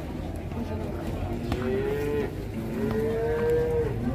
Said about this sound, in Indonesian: Kurus sekali sapinya.